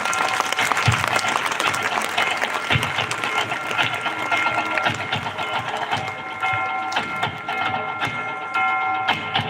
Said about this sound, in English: I request everyone to please give a huge round of applause.